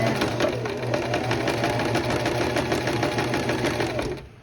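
A sewing machine double stitches a dress seam at about a quarter-inch allowance, running with a steady rapid whirr and mechanical clatter that fades out at the end.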